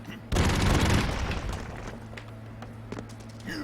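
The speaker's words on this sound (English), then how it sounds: "Terror Cannon!" A Terror Cannon blast in a video game lands as one sudden loud boom, then a crackling rumble that fades over a few seconds, with faint game noise continuing underneath.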